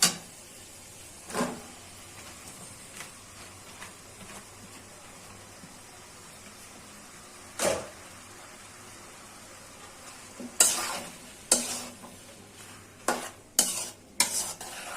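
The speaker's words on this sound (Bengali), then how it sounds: "এই যে আগে থেকে সিদ্ধ করে রাখা পাস্তাগুলো দিয়ে দিচ্ছি" Pre-boiled pasta goes into frying spices in a pan and gets stirred, a low, soft sizzle under scattered sharp clinks and scrapes of a utensil against the pan, growing busier toward the end; no talk.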